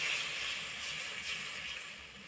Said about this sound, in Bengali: মশলা ধোয়া জল এর মধ্যে দিয়ে দিচ্ছে